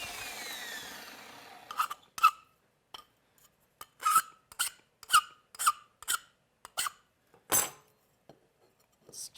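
Repeated rasping strokes of a file on a metal piece clamped at a workbench, about a dozen short, close, fairly loud strokes in an uneven rhythm with brief pauses, after a longer scraping pass at the start.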